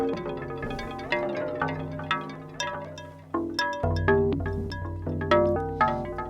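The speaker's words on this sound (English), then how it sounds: "The echo works pretty well with those plucky sounds." Plucky, bell-like notes from a tiny Eurorack synth patch with Rings resonator, Citadel and Oneiroi modules ring out in a repeating rhythm, each pluck trailed by decaying echo repeats that blur into a shimmering wash.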